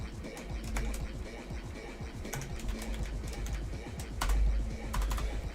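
Rapid, uneven typing on a computer keyboard with dense clicky keystrokes and a few sharper key strikes, set against a faint low background hum.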